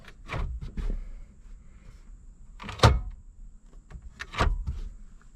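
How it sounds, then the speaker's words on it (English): An ashtray door in a 1989 car interior being opened and closed several times, giving short plastic clicks and thunks in a quick series, close to the microphone with quiet gaps between. "OE radio, freshly dyed console, OE shift knob, ashtray door that works."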